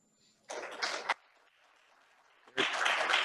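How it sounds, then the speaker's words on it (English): Audience at a Rotary club meeting breaking into applause, two separate bursts of clapping with a quiet pause between them, moderately close. "if y'all would, round of applause for them"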